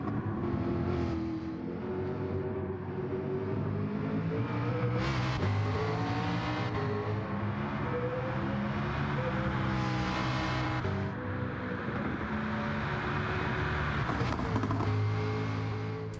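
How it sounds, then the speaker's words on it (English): The McLaren Ultimate VGT engine in Gran Turismo 7 revs and shifts continuously, pitch climbing and dropping through gear changes with downshift blips, fairly quiet and heard alone without speech. "let you listen to the engine. Let me know what you kind of think of the sound of the car"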